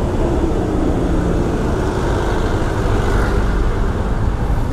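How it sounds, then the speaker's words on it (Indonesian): Steady road noise from cars and motorbikes, a dense low rumble of slow morning traffic in a jam in Bali, between Kerobokan and Canggu, heard from inside a vehicle, with no talking. "Kita kena macet nih teman-teman ya."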